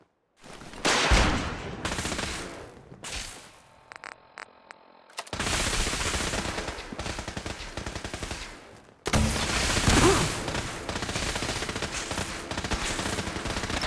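Sustained automatic gunfire and bursts of shots in a Fallout 4 shootout, loud and dense, with a short lull midway before heavy firing resumes.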